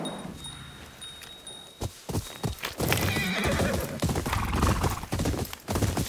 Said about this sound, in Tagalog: Tignan mo tatawagin natin yung kabayo natin. Magte-teleport yung kabayo dito.